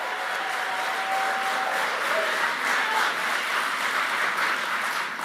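A large crowd at a political speech applauds in a steady, continuous wash of clapping that lasts throughout. It sounds somewhat distant and even.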